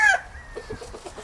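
A rooster calls out loudly and briefly among his hens, the sharp tonal cry cutting off quickly and giving way to a scatter of soft, low clucks close by in a farmyard.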